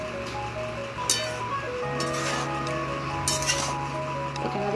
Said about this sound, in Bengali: এবার একটুখানি হালকা করে এটাকে নাড়িয়ে নেব।